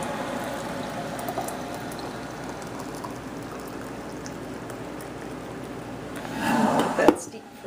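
Boiling water pours into a teapot near the end, a short burst of splashing liquid after a stretch of steady low background noise.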